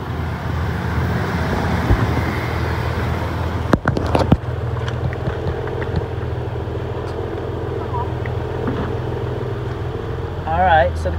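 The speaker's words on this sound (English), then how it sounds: "All right, compressor is running." A Jeep Wrangler 4.0L engine idles with its AC compressor running, a steady low mechanical hum and drone, with a couple of sharp clunks partway through and faint chirps near the end.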